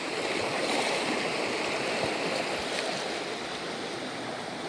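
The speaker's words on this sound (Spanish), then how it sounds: "Siguen llegando las olas" Sea waves wash onto a beach in a steady broadband hiss and rush that stays loud and continuous, with soft low swells and no voices.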